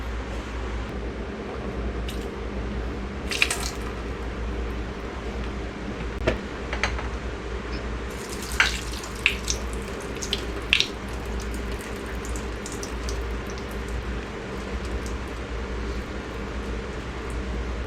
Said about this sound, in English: Drain all the water out of your cucumbers and put them in bowls.